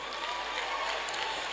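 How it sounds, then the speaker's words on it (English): An audience at a medical laboratory science oath-taking and induction ceremony claps, a soft, continuous patter of applause heard from a distance and held steady throughout. "So can we clap for him?"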